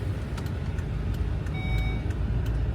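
Volvo car being moved, with a low engine rumble close by and a series of faint rhythmic beeps over it, no talk.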